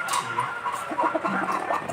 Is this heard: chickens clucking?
yes